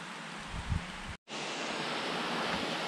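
Lick Creek Falls, a waterfall, roars as a steady broadband rush heard from nearby on a wet rocky trail, with a brief dropout just past the midpoint before the constant wash resumes.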